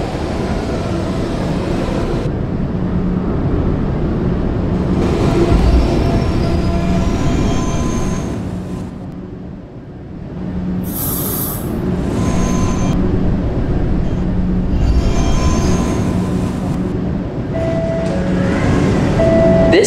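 A New York subway E train rumbles and hums loudly inside the World Trade Center station, its motor droning with surges, brakes hissing, and wheels squealing briefly midway.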